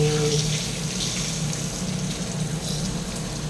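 Water gushing from a tap fed by a multi-point water heater under repair, a loud continuous splashing rush close by with a faint tonal hum underneath.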